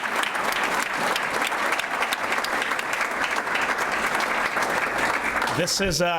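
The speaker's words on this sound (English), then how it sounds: "a nice round of applause for Mr. Greg Van Horn." Sustained applause from a crowd fills the room, steady and loud, with a voice rising briefly near the end.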